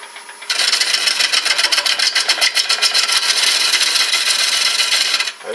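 A lathe gouge makes a push cut on a bowl of wet, soft wood: a loud, continuous rasping shear with a fast rhythmic flutter as the spinning blank passes the tool, starting abruptly and stopping just before the end.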